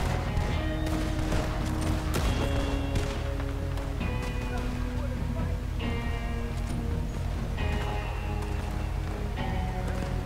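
Machine gun fire during a Red Dead Redemption 2 shootout, crackling in dense bursts over a constant loud bed of game music and commotion, with galloping hooves and a voice mixed in.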